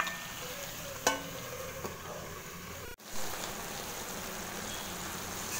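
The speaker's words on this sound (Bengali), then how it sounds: "একটু একটু করে নেড়ে দেবো।" Chicken fries in a pan with a soft, steady sizzle as a utensil stirs it in occasional scrapes and taps, with a brief break midway before the hiss returns.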